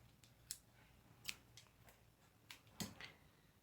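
Scissors snip through crochet yarn, several quiet separate cuts spaced over a few seconds, close and faint with no talking.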